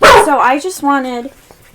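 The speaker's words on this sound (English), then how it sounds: "Sorry, that was my dog." A pet dog lets out a short, sharp bark right at the start, close and loud, followed by someone beginning to speak indoors.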